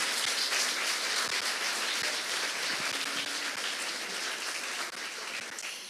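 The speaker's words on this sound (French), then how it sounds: "Oui, vous pouvez les applaudir encore une fois d'ailleurs." Applause from a large audience at an osteopathy college graduation ceremony fills the hall in a sustained, dense roar that fades slightly toward the end.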